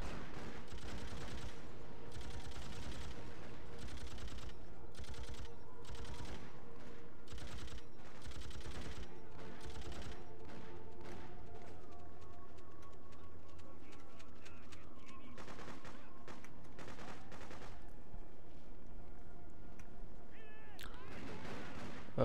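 Gunfire from a weapon in the video game Freedom Fighters crackles in repeated shots and short bursts through the clip, fairly faint and steady beneath other game noise.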